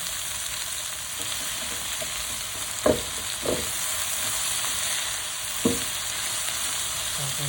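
Chicken curry ingredients fry on high heat with a steady, fairly close sizzle, punctuated by a few sharp scrapes as they are turned in the pan.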